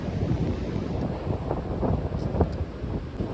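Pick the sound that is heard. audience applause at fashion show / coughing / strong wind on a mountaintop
strong wind on a mountaintop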